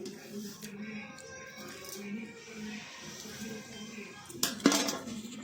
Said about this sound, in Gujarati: આ રીતે ચપ્પાની મદદથી એક સરખા આપણે પીસ કરી દઈશું